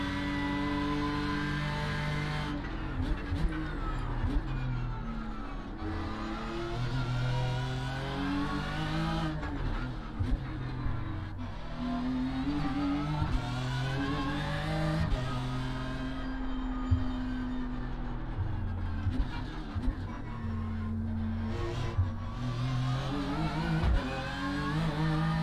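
BMW M4 GT3 race car engine in the iRacing sim, droning and revving continuously as gears rise and fall through a lap, with occasional tire squeal and no voices.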